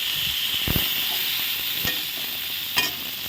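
Eggplant slices sizzle steadily in hot oil in a pan, a constant close frying hiss broken by a few brief clinks and scrapes of stirring.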